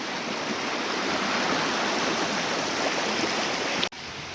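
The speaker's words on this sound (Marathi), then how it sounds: "तसेच एक खूप छानसा असा धबधबा आहे." A steady, dense roar of rushing water from a waterfall fills the scene, loud and unbroken, with no voices.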